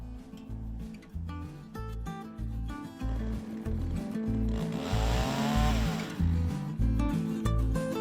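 An Alaskan chainsaw mill cuts a tree lengthwise into timber: a loud, steady chainsaw drone with rhythmic pulsing as the saw works through the log, continuing throughout.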